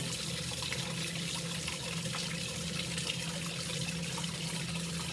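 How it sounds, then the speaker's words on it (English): Liquid is poured while being swirled into a filter during a chemistry lab crystallization, a continuous splashing, gurgling hiss, close and unbroken throughout. "So I'm going to just kind of swirl it as I pour this down."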